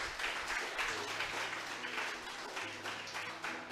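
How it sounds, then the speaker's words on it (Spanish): A church congregation applauds together during a sermon, a steady, dense wash of clapping that fills the whole stretch at moderate level, with no voice standing out above it. "Vamos a darle un aplauso a nuestro Señor"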